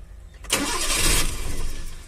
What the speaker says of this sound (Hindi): गाड़ी सेल्फ लेती है